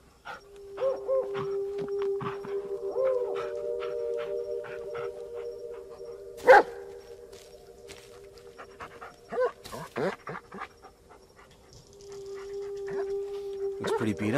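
A dog whimpers and pants in the Blair Witch video game, with sustained whining tones and short yelps recurring over about fourteen seconds, fairly close and clear, with a few sharp noises mixed in.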